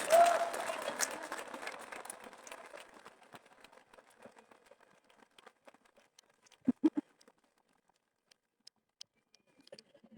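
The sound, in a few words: audience applause for the pastor at a church event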